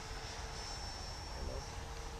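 A Freewing F-22 RC model jet flies at half throttle, its electric ducted fan producing a steady, distant whine over breezy outdoor noise.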